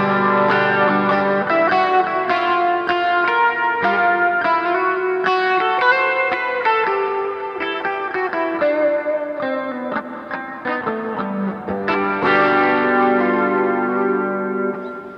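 Electric guitar with effects, distortion, chorus and echo, plays a continuous melodic line over a fretboard pattern, deliberately landing on avoid notes outside the key. The notes sustain and ring loud and close throughout, with no talking.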